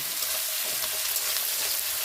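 Catla fish pieces frying in hot oil for a yogurt fish curry, giving a steady, close, continuous sizzle and crackle with no voices.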